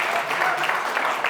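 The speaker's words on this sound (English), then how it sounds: "Give another applause to Simon" Brief burst of audience applause at a startup community demo afternoon in Estonia, steady dense clapping at moderate level for about a second with no voice over it.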